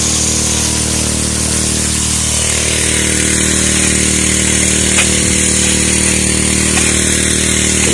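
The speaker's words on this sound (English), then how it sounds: "Still running Martin MS-46." A Martin MS-46 gold mining machine runs continuously on a bedrock site, its motor giving a loud, unbroken buzzing drone with a steady pitch throughout.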